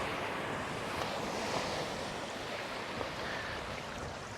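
Ocean waves wash over a low-tide foreshore in a continuous broad roar of surf mixed with wind noise, with no speech over it.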